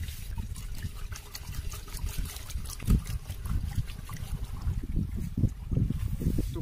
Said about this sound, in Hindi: तो गाइस फटाफट मैं डालने वाला हूँ इसमें डीजल